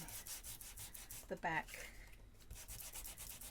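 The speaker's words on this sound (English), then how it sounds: "And I am sanding" Soft, steady scratchy sanding of a playing card with a sanding disc, a few brisk rubbing strokes, close by, with a brief murmured word partway through.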